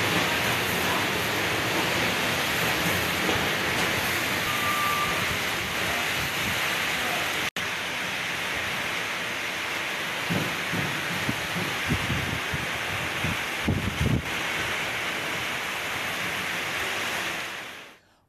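Heavy rain driven by strong gusting wind in Pudukkottai, a dense, steady hiss of downpour with brief louder bursts of gusts and splashes toward the end, heard with no voices.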